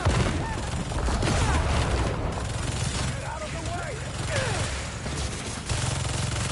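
Overloaded turrets fire continuously in Spider-Man 2, a loud, dense stream of rapid gunfire and booming blasts layered with game effects, with a voice talking over parts of it.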